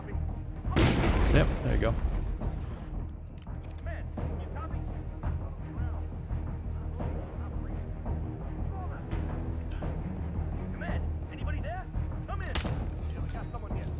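Gunfire and grenade blasts in the video game Hitman 2, a heavy burst early on followed by a steady rumble of shots and sporadic sharp cracks, with someone talking briefly over it.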